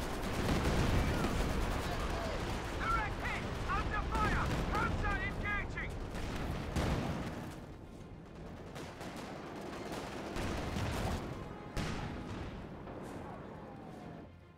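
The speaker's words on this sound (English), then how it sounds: "Oh, that's a deadly Katusha barrage." Katyusha rocket barrage in Company of Heroes 2, a dense roaring rumble of launches and impacts that swells and fades over several seconds, with someone commentating over it.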